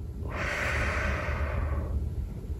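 A single slow, deep breath is drawn in during a relaxation exercise, close and breathy, lasting about a second and a half before fading.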